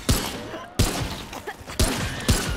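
Four sharp, loud gunshots ring out in Remnant 2, spaced unevenly over a couple of seconds, each with a short ringing tail.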